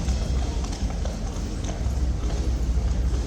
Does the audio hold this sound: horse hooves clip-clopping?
yes